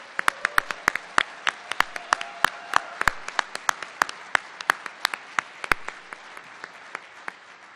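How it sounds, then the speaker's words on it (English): Audience at a College of Humanities winter convocation applauds graduating students, starting as dense clapping that thins into scattered, distinct claps over several seconds. "let's give all of our students who are graduating for the College of Humanities a round of applause for their academic accomplishments"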